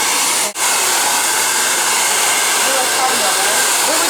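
An infrared hair dryer blows steadily at close range, a loud continuous airy whoosh that cuts out for a split second early on and then resumes unchanged.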